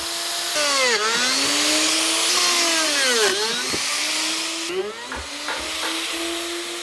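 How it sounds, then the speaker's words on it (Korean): At a wooden bathtub factory, a power drill bores holes into wooden bathtub planks. Its close, whining motor repeatedly rises and falls in pitch, with no talking. "그런데 멀쩡한 나무에 구멍을 내기 시작한다"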